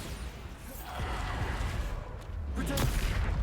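The Bombarda explosion spell goes off in Hogwarts Legacy, a loud, booming blast with rumbling debris over dense game noise, without a clear single onset.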